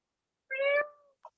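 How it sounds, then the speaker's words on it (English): A single clear, tonal meow from a nearby cat in a quiet indoor room, followed by a brief soft chirp. "Kitty."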